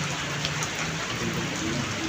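Heavy rain pours down steadily, a dense even patter with no break.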